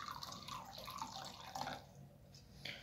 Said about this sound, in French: je verse donc du vin dans un bol